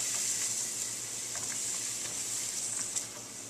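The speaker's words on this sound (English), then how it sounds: "the sizzling's starting to kind of die down a little bit" Onions cook in hot olive oil over medium heat in a risotto pan, a faint, quiet sizzle with scattered soft crackles and pops that hold low and steady throughout.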